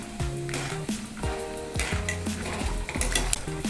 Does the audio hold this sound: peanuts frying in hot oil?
yes